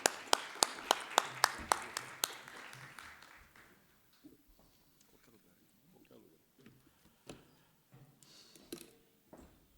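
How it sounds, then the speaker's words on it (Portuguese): A brief burst of applause and clapping for guests at a business conference forum, fading out within a few seconds, followed by quiet room sounds and scattered small noises. "Uma salva de palmas para os nossos convidados."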